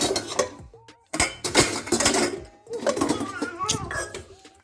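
A small child named Gullu bangs and clatters metal kitchen pots, pans and utensils in bursts of loud clanging and ringing, with short pauses between rattles and someone speaking over the noise.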